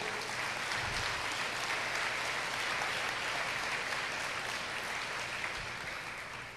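A church congregation applauds after being asked to clap for the King of Kings: a dense, steady wash of many hands clapping, sustained evenly from start to finish with no voices on top.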